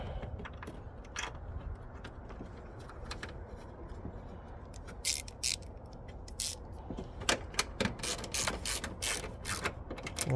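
A clamp on a cold air intake for a 2010 Genesis sedan 4.6 being tightened by hand, with soft ratcheting clicks that come in bursts and grow more frequent toward the end, close and fairly quiet.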